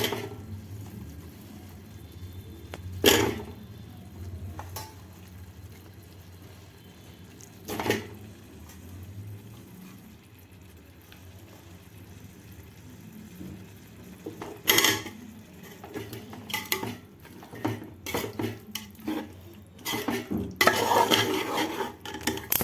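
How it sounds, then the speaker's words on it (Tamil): Chicken pieces go into a pan of hot oil and curd for biryani and get stirred, bringing scattered metallic clinks and scrapes over a low simmer that grow busier and more frequent toward the end. "இப்போ வந்து நம்ம இதை சிக்கனை போட்டுறலாம்."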